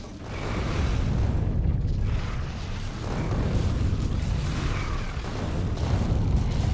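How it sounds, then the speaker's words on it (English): Cluster grenades exploding in the game Factorio, a sustained rumbling barrage of overlapping booms that stays loud and dense throughout, with no talking. "We also have available to us now some cluster grenades."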